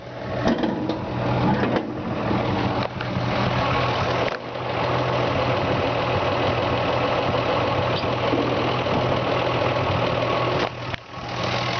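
A rebuilt inline six-cylinder engine in a 1953 Ford F-100 pickup idles steadily with a rapid, even ticking chatter, loud and close, with a few brief dips and no talking.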